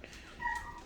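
A single faint, short cat meow sounds indoors against low room noise, lasting under a second.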